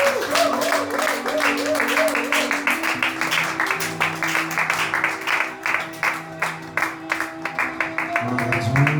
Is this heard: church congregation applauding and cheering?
yes